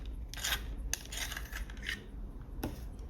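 A Polychromos colored pencil in cobalt turquoise is turned in a small sharpener, giving faint, close scraping and shaving sounds with a few light clicks, no talking.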